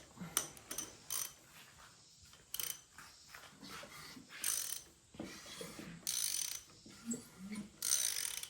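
A 1965 Ford big block engine with the spark plugs removed is turned over by hand, giving quiet, close ratcheting clicks and mechanical rasps in irregular bursts with pauses between.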